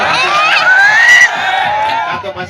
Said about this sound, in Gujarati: તાળીઓ વધાવી લો એકવાર તાળીઓથી